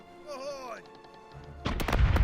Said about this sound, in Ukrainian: Правий борт готовий до залпу!